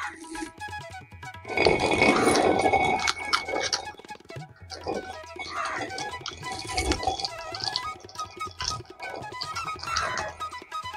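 A hand-turned stone grinder splitting black gram (urad dal), giving a continuous gritty rumble and scraping that swells and fades with each turn, close and fairly loud, with no talk.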